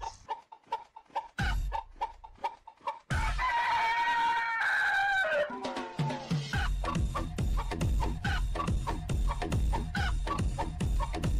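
Chickens in the Minecraft video game clucking in rapid bursts, with a loud crow in the middle followed by a dense run of overlapping clucks and squawks, no talk over them.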